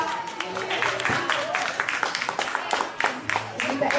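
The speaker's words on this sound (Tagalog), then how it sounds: "Bigyan niyo po ng palakpak." Guests at an 80th surprise birthday party clap in a steady patter of applause, fairly close, with voices talking over it throughout.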